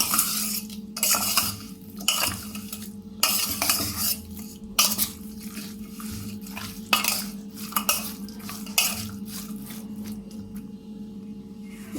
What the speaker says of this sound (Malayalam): ഇത്ര ഇട്ടിട്ട് ഞാൻ ഇതൊന്ന് മിക്സ് ചെയ്യണം. നന്നായിട്ടൊന്ന്